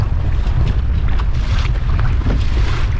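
Strong wind rumbles and buffets the microphone on open water while a fishing kayak is paddled into a headwind, loud and steady, with faint water wash beneath and no talking.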